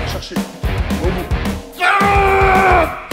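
A man yells loudly while finishing a bench press set in a gym, with strained bursts building into a long sustained shout as another voice encourages him.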